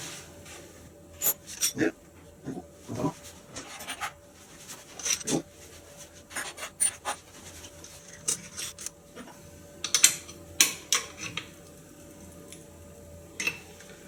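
Workpiece clamp on a milling machine being tightened, with a shim placed beneath it: scattered close clicks and ratcheting taps come in short bursts over a steady low machine hum.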